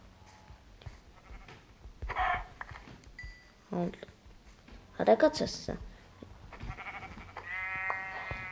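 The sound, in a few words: sheep bleating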